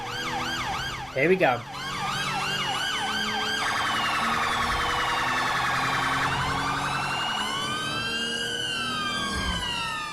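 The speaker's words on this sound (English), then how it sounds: "Okay, sirens on." Police car sirens in GTA V, on a patrol through London's winding roads: loud wailing and yelping siren tones cycle continuously and shift pitch, with a brief spoken phrase near the start.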